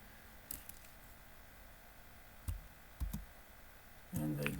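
A computer mouse clicks a few times during a lecture to download a file, sharp isolated clicks spaced apart in a quiet room, followed by a voice starting to speak.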